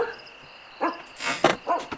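Toby the dog barks in a Sherlock Holmes video game, a few short yaps and woofs in quick succession over a quiet, steady background hum.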